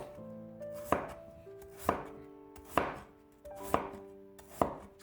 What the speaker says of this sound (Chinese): 从中间对半切开，再改刀切成4瓣，最后给它切成小块